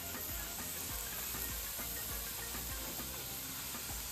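A steady sizzle and hiss runs without a break from an aloo paratha frying in a light coating of oil on a pan, close up and unbroken.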